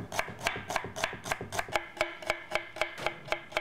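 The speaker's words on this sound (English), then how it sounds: "now I'm going to slice the shallots" A knife slicing shallots thinly on a cutting board gives a steady, even run of crisp taps, about three per second, close and clear with no talking.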